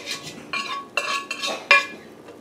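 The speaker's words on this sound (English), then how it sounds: "we're gonna strain our macaroni there" Cooked macaroni tipped into a strainer for a Guyanese macaroni pie, giving several short bursts of clattering metal and a few clinks, spread over a couple of seconds with small gaps between them.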